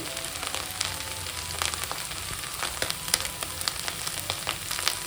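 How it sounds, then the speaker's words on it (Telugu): Aloo karachi rava mixture, a potato and semolina snack, frying crisply in hot oil on a high flame: a steady, dense sizzle with fine crackling pops throughout, close and continuous, no voices. "వేయించుకోవడం మాత్రం మనం హై ఫ్లేమ్లో మాత్రమే వేయించుకోవాలి అప్పుడే మనకి క్రిస్పీగా వేగుతాయి"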